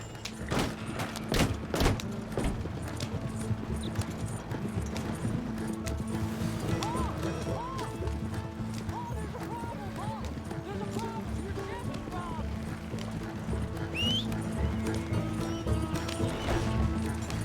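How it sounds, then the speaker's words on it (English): Horse-drawn stagecoach in Red Dead Redemption 2 rolling along, with steady clip-clop of hooves under continuous background music and game ambience, a horse whinnying now and then. "let's grab this stagecoach and get out of here"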